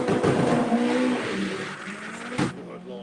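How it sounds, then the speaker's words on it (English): Mark 1 VW Golf launching at a drag race with tyres spinning, a loud engine roar and revving close by that eases off, then a sharp burst near the end, with a commentator talking over it. "Good launch. Tyres fighting."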